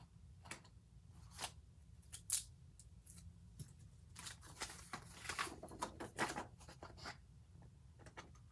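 Scissors snip paper for a decorative planner spread: faint, close, irregular crisp clicks and short cutting strokes spread over several seconds in a quiet room.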